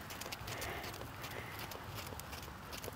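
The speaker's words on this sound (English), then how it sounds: "So right now, she's actually cantering and I'm still steering her a little bit" A Standardbred horse canters with a rider in an arena, its hoofbeats landing in a steady, rhythmic clip-clop close by, continuous and fairly loud throughout.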